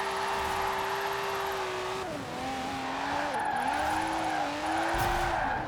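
Car tires squealing as they lose traction while drifting in Forza Horizon 4, a sustained wavering screech over engine drone that dips and rises with the slide, close and continuous.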